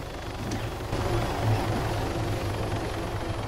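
Apache helicopter in an Arma combat game, its rotor and engine giving a steady, loud low rumble with a faint pulsing beat throughout, no voices.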